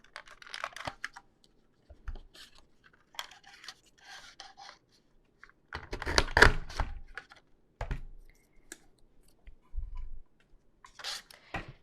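A paper trimmer slices scrapbooking paper in a quiet room: a series of short, scratchy slides and rasping strokes, with a louder burst in the middle and small thunks and clicks between the cuts.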